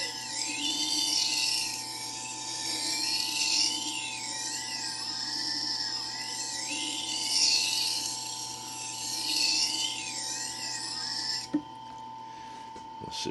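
Knife blade worked back and forth on a Torkek T4 sharpener, a steady repeating scraping rasp with rhythmic swells, close and continuous over a constant background hum, stopping abruptly near the end.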